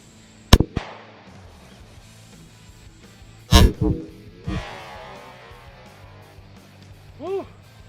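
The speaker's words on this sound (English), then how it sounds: "Ooh, that's a nice shooting pistol" A 10mm pistol fired outdoors: a few sharp, loud bangs with short ringing tails, spaced seconds apart, and a voice calls out briefly near the end.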